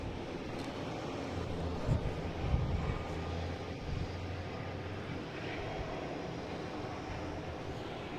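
A Delta Embraer E175 jet roars continuously at a distance with a broad, steady rumble as it lands or takes off. The sound carries on without talk.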